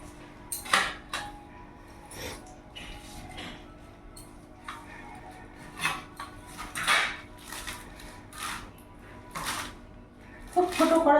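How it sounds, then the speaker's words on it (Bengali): A knife chops washed helencha greens on a board in a home kitchen, with irregular sharp taps in short bursts, close and moderately loud, and a few quieter pauses between them. "এটাকে একটু ছোট ছোট করে কাটবো"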